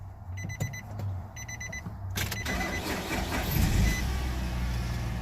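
A 2005 Nissan Frontier pickup with a crankshaft position sensor fault cranks and starts after a chiming dash warning beeps twice; the engine catches and runs with a rising rumble.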